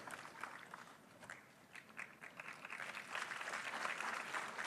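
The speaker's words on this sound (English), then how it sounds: "please welcome them with a big applause" A crowd at an Indian Army quiz competition for school teams applauds, the clapping swelling from scattered to fuller and louder, heard from a moderate distance.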